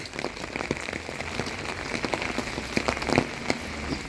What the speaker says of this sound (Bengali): কাল থেকে বৃষ্টি শুরু হয়েছে